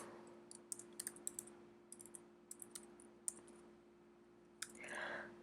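A computer keyboard clicks in short, irregular bursts of keystrokes while JavaScript code is entered, sharp and close over a quiet hum, ending with a brief soft rush.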